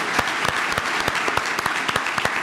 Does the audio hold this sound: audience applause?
yes